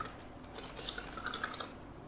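Steady typing on a computer keyboard while entering text in MS Word, a quick run of light plastic key clicks close up, with no voices.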